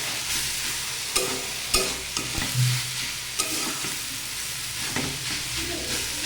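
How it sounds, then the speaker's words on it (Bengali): A vegetarian banana flower curry is stirred in a frying pan, with a steady sizzle and a scattering of scraping, knocking utensil strokes against the pan, close and fairly loud throughout. "এইভাবে নেড়ে চেড়ে আস্তে আস্তে করে কম আছে আমি রান্নাটা করতে থাকবো।"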